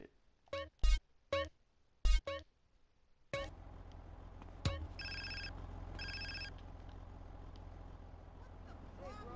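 A phone rings in GTA San Andreas with several sharp, evenly spaced trilling bursts, loud and clear, then a quieter electronic buzz over a droning game background.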